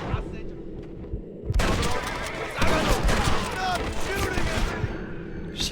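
Rapid gunfire in the Western game Red Dead Redemption erupts suddenly after a quiet moment, loud bursts of shots continuing over horse sounds, with voices talking over the chaos.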